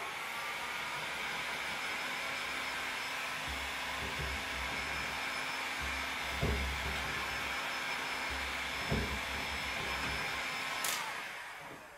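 A heat gun blows steadily at close range while a piece is heated to squash it into place, a continuous loud airy roar with a few faint knocks.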